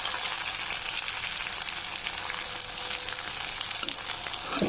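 Capsicum (shimla mirch) pieces frying in oil, an even, crackling sizzle that runs unbroken throughout, close and moderately loud, with a faint clink near the end.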